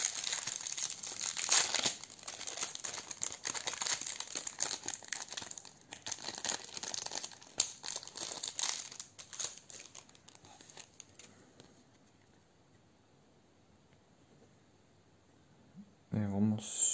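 Plastic wrap is peeled off a Pokémon Elite Trainer Box with close, loud crinkling and crackling for several seconds. A quiet stretch follows, then a brief final rustle.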